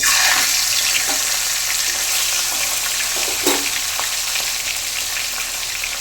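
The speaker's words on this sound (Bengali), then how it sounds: "এরপর আমি মুড়োটা আস্তে আস্তে ভাজবো।" Katla fish heads frying in hot oil, a loud, constant sizzle and crackle running unbroken for several seconds, close up, with a faint clink midway and no talking.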